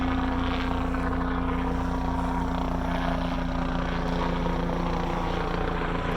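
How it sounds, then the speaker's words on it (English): A helicopter passes overhead with a loud, steady rotor drone and engine hum that persist without pause throughout. "there's a helicopter flying overhead"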